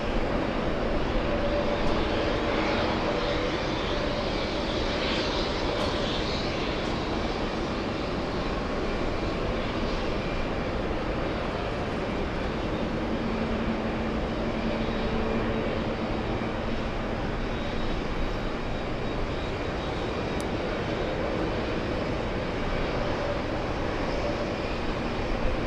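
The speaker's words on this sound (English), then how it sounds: "that is British Airways. Speedbird 175 flying in from Heathrow." A British Airways airliner arriving at JFK Airport from Heathrow makes a faint, distant engine roar, a long even rumble with a slight tonal whine that persists throughout, not rising sharply.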